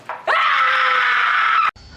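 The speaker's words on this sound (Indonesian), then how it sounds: "sedang kesal hingga dia berteriak" A person lets out a long, loud, sustained scream of anger in a Korean drama, preceded by a short vocal outburst and ending abruptly.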